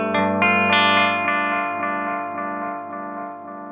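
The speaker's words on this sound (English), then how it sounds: "the echoes, progressively, they get more filtered and more distorted as they tail away" Repeating echoes from a delay pedal tail away in a guitar-effects comparison, a bright struck tone followed by several evenly spaced repeats that grow darker, more distorted and quieter, with no talking.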